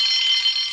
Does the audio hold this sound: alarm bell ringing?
yes